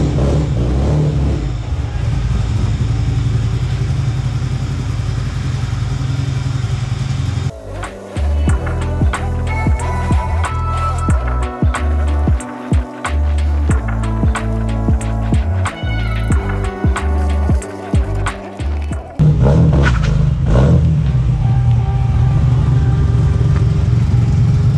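A car engine revving on a test drive, near and loud, rising and falling through several surges with a changing whine over a steady rumble, and no voices.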